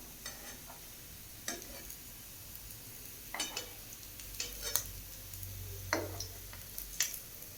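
Oats chilla sizzling quietly on a pan, with a few sharp scraping clicks and taps of a spatula as it is flipped and turned, spaced irregularly over a steady low frying hiss.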